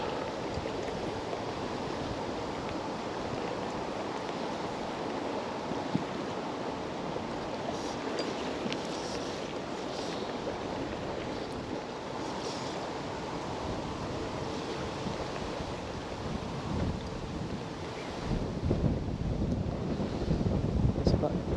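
A fresh northwesterly wind rushes steadily across the microphone on the banks of the River Doon in Ayrshire, Scotland, with running water beneath it. The roar stays continuous and grows slightly louder toward the end.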